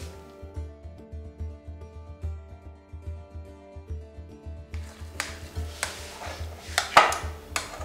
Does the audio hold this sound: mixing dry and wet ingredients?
yes